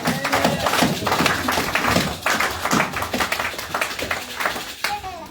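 A church congregation at a sermon clapping in steady rhythmic unison, a bright continuous run of hand claps with voices mixed underneath.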